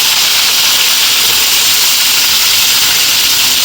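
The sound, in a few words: vegetables frying in oil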